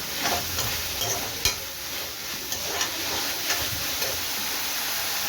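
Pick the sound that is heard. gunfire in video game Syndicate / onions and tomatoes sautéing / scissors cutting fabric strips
onions and tomatoes sautéing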